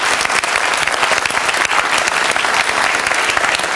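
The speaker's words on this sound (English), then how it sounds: "Can you all applaud each other for a pretty civilised affair?" Loud, sustained applause from a large television studio audience after a debate, steady clapping filling the room throughout with no voices standing out.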